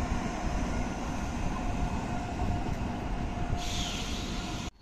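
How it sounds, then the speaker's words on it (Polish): An Intercity passenger train hauled by an EP09 electric locomotive pulls into Bydgoszcz Główna station, a steady loud rumble of wheels and motors close by throughout, with a brief brighter hiss near the end and no voices. "mamy wjazd pociągu Intercity Heweliusz, relacji Gdynia Główna, Wrocław Główny. Prowadzony lokomotywą EP09"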